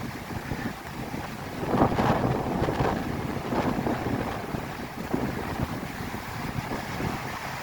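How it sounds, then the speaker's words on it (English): Strong wind buffets the microphone on a Lake Michigan beach, a steady loud roar with gusts swelling and fading, waves breaking underneath throughout. "it's really windy."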